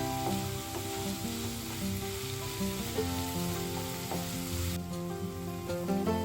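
Spinach leaves fry in a pan for a palak and moong dal dish, giving a continuous close sizzle with faint scraping stirs and no talk.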